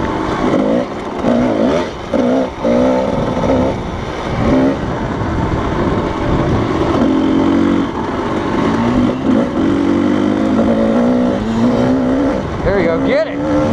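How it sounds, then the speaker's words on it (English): A Kawasaki KDX220 dirt bike in the desert revs loudly and repeatedly, its engine note rising and falling over about fourteen seconds, with other voices or engines mixed underneath. "I like hearing him rev that KDX."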